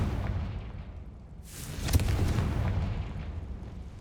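Confringo blasting spell explosion in the Hogwarts Legacy video game, a single sudden booming blast with a rumbling tail, heard alone without speech.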